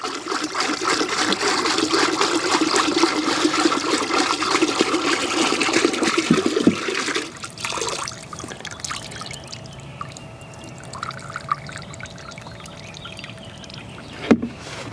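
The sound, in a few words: pouring deck oil into a bucket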